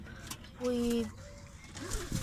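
A single low pigeon coo rises briefly over faint background murmur and rustling, close by and fairly soft.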